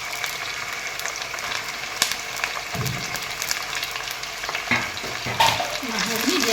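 Chicken meat hitting a pan of browned onions, frying with a continuous loud sizzle, punctuated by sharp scrapes and clatters of stirring and a few louder crackling bursts, with no voices.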